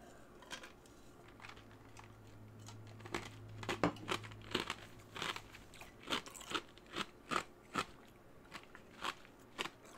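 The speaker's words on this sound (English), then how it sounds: "Excuse me, I'm chewing ice cubes." Ice cubes being chewed close up, a run of sharp crunching bites that settles into a steady rhythm of loud, regular crunches, with no talking.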